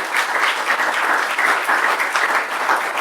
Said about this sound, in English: A round of applause for THI.